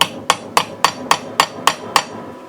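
Seven light, evenly spaced hammer taps seat a U-joint top cap on a Polaris Sportsman front driveshaft, each a sharp metallic knock with a brief ring, close and clear.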